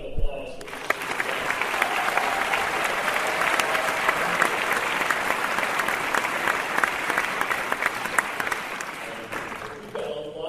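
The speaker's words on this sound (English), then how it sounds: "One more, please, round of applause." Opening-night film-festival audience gives a sustained, full round of applause, dense clapping that holds steady for about ten seconds after a brief moment of quiet at the start.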